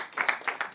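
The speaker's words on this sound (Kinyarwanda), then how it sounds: "Mwongere mukomere Imana amashyi menshi cyane" Hands clap in a quick, even rhythm at a birthday celebration, about six sharp claps close by in under a second.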